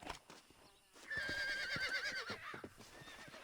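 A horse in the Red Dead Redemption video game lets out a long, loud whinny that wavers and trails off, followed by a few hoof clops and scuffs in a quiet desert setting.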